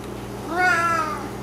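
A cat held in a towel and cradled in one arm for medicine gives one drawn-out, rising and falling meow, close and clear over a low room hum.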